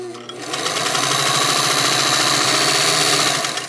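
A 1939 Singer 201-2 sewing machine runs at a steady, fast speed, close and loud, with a smooth continuous whir that ramps up at the start and eases off at the end.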